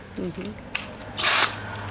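A power drill fitted with a hinge-boring bit whirs in one short burst in a workshop, with soft handling noises around it.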